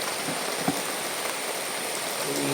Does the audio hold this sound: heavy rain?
yes